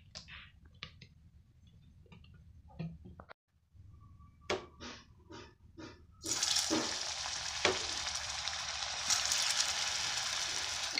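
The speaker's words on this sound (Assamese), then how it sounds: "আৰু এতিয়া মই ফ্ৰাই কৰি লওঁ বলক" Dough balls frying in hot oil in a kerahi wok, opening with scattered clicks and stirring taps, then a loud, steady broadband sizzle that swells and holds to the end.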